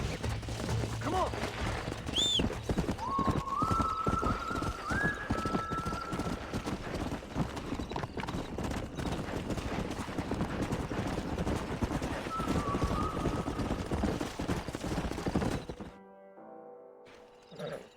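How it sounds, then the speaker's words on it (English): Horse hooves clip-clop steadily in Red Dead Redemption, with a few whinnies and neighs over a busy game soundscape, cutting off near the end. "We got some fine horses."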